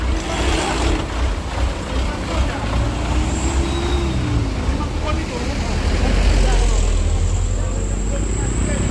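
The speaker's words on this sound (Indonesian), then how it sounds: "ini dereknya bosku sudah tiba di TKP" A tow truck pulls up at a roadside recovery scene at night in a protected forest, its diesel engine rumbling steadily nearby with hissing air brakes, while voices talk over it.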